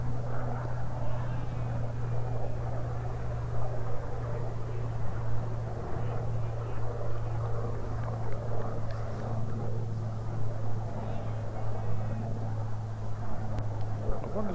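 A non-military aircraft passes overhead a cricket ground, a low steady drone and rumble held throughout at moderate, fairly distant level without speech.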